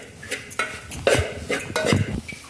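Matar paratha stuffing with gram flour being stirred and sautéed in a pan, a spoon clinking and scraping against the metal in irregular bursts, close up with no talk.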